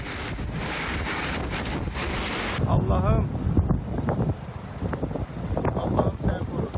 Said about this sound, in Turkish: Antalya'da denizden oluşan hortum karaya yöneldiğinde kimse bu kadar büyük tahribat yaratacağını tahmin edemezdi.